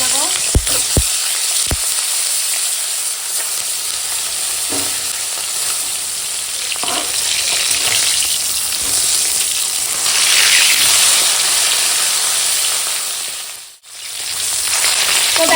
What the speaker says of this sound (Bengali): তেল গরম হয়ে গেছে এখন মাছ দিয়ে